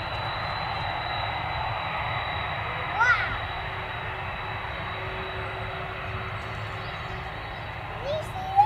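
A large airliner landing and gliding down the runway at London Stansted Airport, its steady broad jet roar held at a distance, with a few faint brief voices over it.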